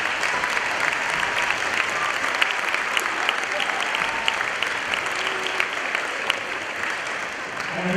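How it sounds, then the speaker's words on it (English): Steady applause from a crowd of volleyball fans, a dense wash of clapping that holds evenly for the whole stretch without a break, with voices mixed into it. "Let's give them a nice round of applause."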